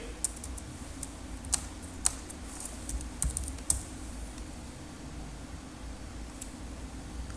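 Quiet keystrokes on a computer keyboard while text is entered into accounting software, a few sparse clicks and taps over a steady low hiss, close and faint, with no talk.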